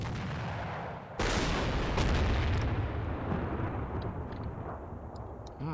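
Explosions and gunfire in the Combat Mission: Ffinal Blitzkrieg wargame as a Cossack unit shoots up a building: a sharp blast at about one second, a heavy rumbling boom, then a long rolling, decaying roar with faint scattered reports.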